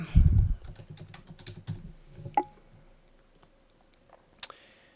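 A password is typed on a computer keyboard in a quiet room: a rapid run of close, crisp key clicks that thins into a few scattered taps and a final sharper click.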